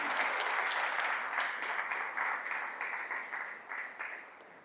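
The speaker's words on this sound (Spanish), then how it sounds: "Dele un fuerte aplauso al Señor." Church congregation applauding the Lord, a full room of clapping that starts loud and slowly tapers as the ovation winds down.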